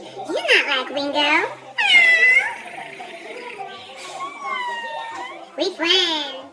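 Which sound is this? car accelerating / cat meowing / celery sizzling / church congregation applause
cat meowing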